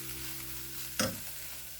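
Onions with dried shrimp and anchovies are stirred in a pan over low heat, a soft steady sizzle broken by one short scraping stir, close and quiet.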